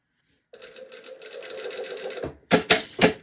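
Sewing machine stitching along the folded edge of a collar, a quick buzzing run of the needle that stops, followed by a few louder separate mechanical clunks.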